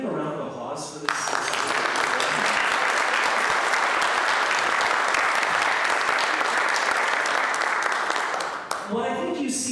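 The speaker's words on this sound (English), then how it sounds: "can we have a round of applause for this?" Audience at a talk bursts into sustained, loud applause lasting about eight seconds, with a few words of speech just before and after.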